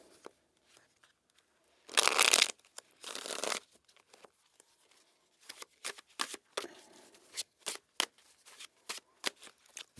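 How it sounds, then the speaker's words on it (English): Tarot cards being shuffled and the deck cut: a long riffle burst near the start, then a run of crisp, close card flicks and taps in a quiet room, with no talking. "Okay, let's cut the deck, Sagittarius, and begin your messages for the week"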